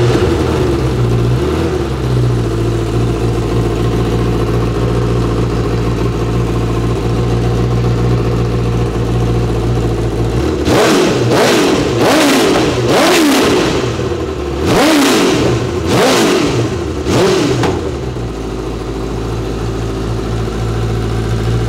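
A supercharged 270 hp Honda CBR1000RR motorcycle engine idles steadily, then gives a series of about seven sharp, loud revs in quick succession before settling back to idle.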